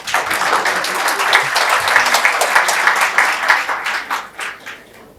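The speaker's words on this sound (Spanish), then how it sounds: "Un aplauso para el decano." An audience applauds the dean at a university dialogue on constitutional freedom of conscience and religion, steady dense clapping from a full room that holds for several seconds and then thins and fades away.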